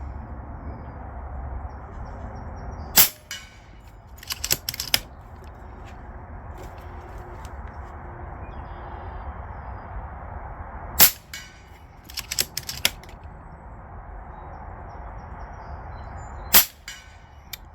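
Macavity Arms MA2 .30 air rifle firing at a target range: several sharp, loud cracks spaced seconds apart, each trailed by brief fainter clatter, over a quiet outdoor background.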